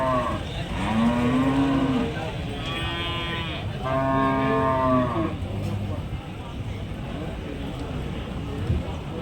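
Cattle low loudly at an open-air cattle market in Manjeri, with two drawn-out moos close by and the crowd murmur of the market beneath them.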